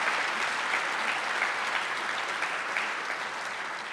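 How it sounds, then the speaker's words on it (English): Steady applause from the audience at a college academic convocation, a dense, even wash of clapping sustained at moderate loudness throughout without a break. "How about a round of applause?"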